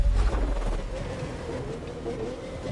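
A race car accelerating at full throttle in The Crew 2, a steady loud engine roar with a deep rumble that starts strong and holds a continuous droning tone, no talk.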